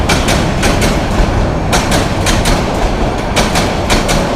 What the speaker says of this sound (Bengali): এই ট্রেন চট্টগ্রামে যাচ্ছে